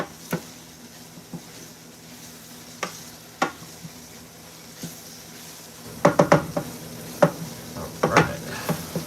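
Homemade chili cooking in a pot, with a soft steady sizzle under scattered scrapes and knocks of stirring that grow busier and closer toward the end.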